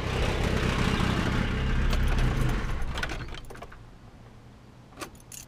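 A car engine running on a Toyota-to-GM ignition conversion is switched off with the key. A loud steady engine drone fades out over a couple of seconds, followed by quiet with a few light key jingles and clicks.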